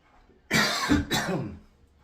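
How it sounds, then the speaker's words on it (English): Two quick, harsh coughs close to the microphone, the second slightly softer, with quiet surroundings. "Excuse the cough."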